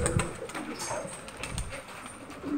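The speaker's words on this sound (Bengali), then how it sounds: "কবুতর আমার অনেক প্রিয়।" Pet pigeons being fed at a family home, some flying off, coo faintly among a low, steady outdoor background, with soft rustling and distant noise.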